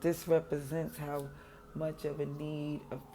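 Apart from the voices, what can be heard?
No everyday noises stand out.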